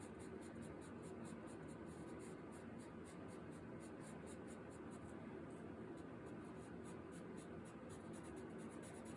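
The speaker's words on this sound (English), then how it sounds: "So I'm going to go in a little bit here with my charcoal pencil." A hard charcoal pencil scratches and rubs steadily across paper for a drawing demo, laying in value and blending back and forth; a continuous close, soft scraping texture without pauses.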